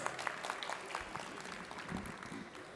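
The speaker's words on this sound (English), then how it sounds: "Can we give him a huge round of applause," Audience applause for the chief guest at the FDDI Hyderabad convocation ceremony, a sustained, fairly faint patter of many hands clapping in a hall.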